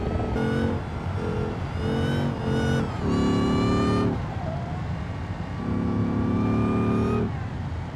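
Car engine in the BeamNG driving game, a supposedly road-legal car revving and shifting in repeated rising bursts, loud and close with sustained high-pitched whine between gear changes.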